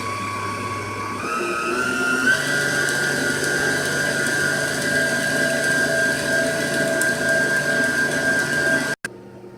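An electric mixer beats boxed Betty Crocker cake batter with a steady mechanical whir that steps up to a higher, louder speed after about two seconds, runs evenly, then cuts off briefly near the end.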